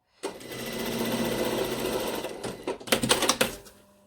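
A sewing machine topstitches a seam on a blazer, running in one steady, close, buzzing burst, then stopping and restarting in a few quick stitching spurts before falling silent.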